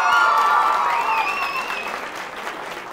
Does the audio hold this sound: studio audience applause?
yes